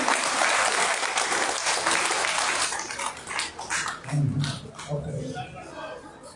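A meeting audience breaks into dense clapping as a guest is welcomed onto the stage at an All India LIAFI general body meeting, the applause loud and then fading into scattered claps with voices and some background noise.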